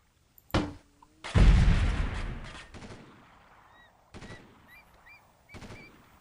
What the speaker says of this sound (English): I'll just use the grenade launcher